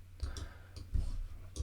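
Several soft, separate mouse clicks from someone working in Logic X recording software, spaced irregularly and heard close up against a quiet background.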